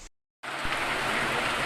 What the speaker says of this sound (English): Il grêle.